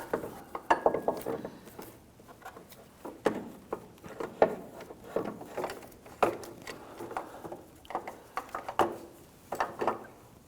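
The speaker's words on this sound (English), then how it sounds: "Take the new tensioner, I'm going to slide this up into place." A new accessory drive belt tensioner is slid into place on a 2001-2009 Volvo S60 2.5L five-cylinder engine, producing close, irregular metallic clicks, knocks and scrapes in quick clusters.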